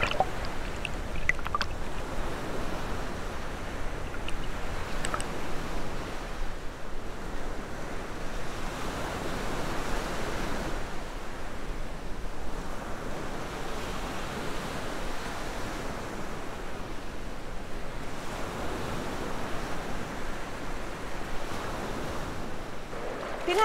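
Rushing river water flows steadily at the Binahaan River crossing in San Pedro, a broad continuous wash of churning current heard up close for the whole stretch with no talking over it.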